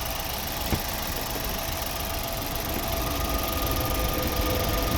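A 2013 Mazda 5 with a 2.0 petrol engine idles cold, unwashed and dusty under the hood; a steady, even mechanical hum and faint ticking hold close and constant throughout, with no voices.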